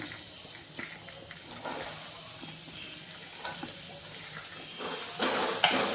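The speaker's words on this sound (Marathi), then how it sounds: "कांदा चांगला लालसर परतून घेऊया" Finely chopped onion fries in a pan, a continuous sizzle and crackle rising and falling with occasional stirring scrapes, growing louder toward the end.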